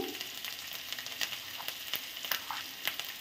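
Tomato paste and turmeric frying in a pan, a steady close sizzle with occasional sharper crackles and stirring scrapes, no talking.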